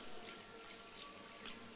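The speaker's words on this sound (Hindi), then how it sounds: "300 ग्राम 1 गिलास पानी का डाल देंगे" A glass of water poured into mutton masala in a pressure cooker, a steady faint trickling wash running throughout without a break, no voices over it.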